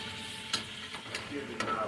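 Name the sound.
chicken frying in oil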